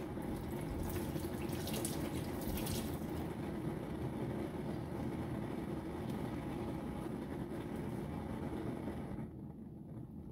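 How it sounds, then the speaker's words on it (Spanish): Water runs steadily from a kitchen tap during handwashing, a soft continuous splash and rush that stops abruptly near the end, with no speech. "Voy a lavarme las manos."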